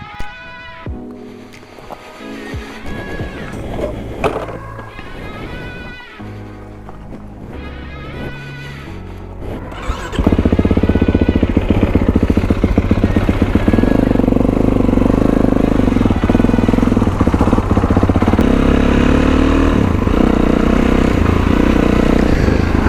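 A Kawasaki KX dirt bike engine runs nearby, first idling and blipping unevenly, then settling into a loud, steady buzzing drone for the rest of the clip.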